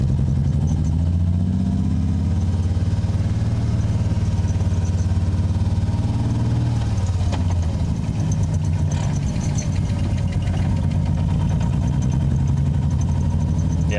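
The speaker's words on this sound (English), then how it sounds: "So if this car sounds like an angry go-kart, that's probably going to be exactly what it is." A BMW E36 with a manual swap and lightweight flywheel drives along, its engine loud and close throughout, with a steady low drone that climbs and drops as the revs rise and fall.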